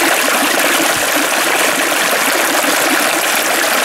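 Creek water rushes steadily past a sluice box in a loud, continuous broadband wash with no pauses, close and unbroken throughout.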